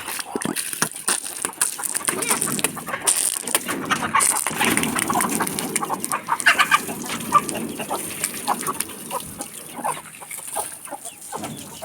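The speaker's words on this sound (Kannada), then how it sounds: "ನೋಡಿ ಕೋಳಿಗಳಿಗೆಲ್ಲ ಅಭ್ಯಂಚನ" Chickens being bathed with water cluck steadily and close by, with busy overlapping clucks and scratchy rustling, splashes and knocks continuing throughout.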